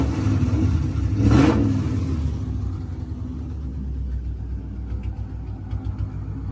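A cold car engine with an exhaust leak and a resonator-delete straight-pipe exhaust revs up once with a deep swelling rumble, then settles into a loud, steady, rough idle up close.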